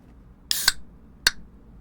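A tall can of fizzy water cracks open with two sharp bright clicks close together, followed a moment later by a third short hiss-click, loud and close in a quiet room.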